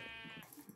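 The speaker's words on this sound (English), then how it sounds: "Sheep! There we go." A single sheep bleat from Minecraft, a brief faint wavering cry with no voices over it.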